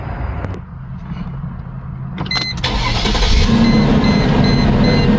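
A Mercedes car engine cranks briefly after a crankshaft position sensor replacement, then catches and starts up, settling into a steady idle that stays loud and close.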